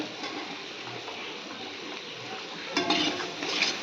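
Tomatoes sauté in a pan with a moderate, continuous frying hiss, scraped and stirred with a utensil, and a couple of louder clinks and scrapes near the end.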